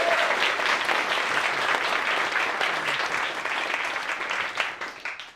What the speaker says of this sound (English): A big round of applause for their bravery.